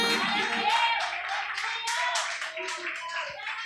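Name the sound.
congregation applauding in church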